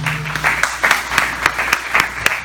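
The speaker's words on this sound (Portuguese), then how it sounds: "Vamos aplaudir ao Senhor mais alto." Church congregation clapping in unison, a rhythmic series of sharp synchronized claps at a steady beat, close and fairly loud with faint organ or voice tones at the start.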